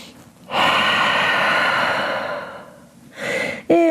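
During a yoga flow, one long deep breath runs close and clear for about two seconds, then fades, followed by a shorter breath and a quick sharp intake at the end.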